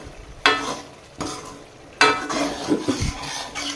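A paste of black pepper, ginger, garlic and salt sizzles steadily in a pan as it fries, broken by several scraping stirs of a spoon against the metal, close and continuous.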